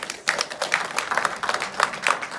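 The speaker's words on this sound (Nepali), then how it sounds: "एकचोटी मेरो श्रीमतीलाई ताली बजाइदिनुस् न" An audience claps at a ceremony, a short burst of scattered, moderately loud applause with irregular hand claps.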